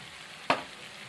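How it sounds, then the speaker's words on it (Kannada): A single brief scrape and sizzle as a spatula stirs chavalike palya, a cowpea-bean dish, frying in a pan, a short close burst over a quiet low hiss. "ಇವಾಗ ತಿರುಗುತ್ತೀನಿ ನೋಡ್ರಿ"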